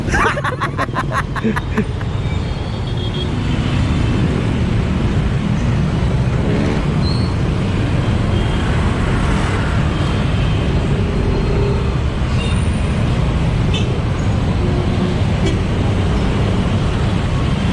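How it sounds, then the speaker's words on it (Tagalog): Busy night-time city road traffic in Divisoria, Manila, heard from inside or beside a vehicle: a loud continuous rumble of engines and tyres with occasional brief horn-like tones and faint background chatter. "Traffic na, oh."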